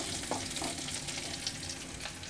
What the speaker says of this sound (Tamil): தேவையானது புளி தண்ணி எடுத்து ஊற்றிக்கலாம்.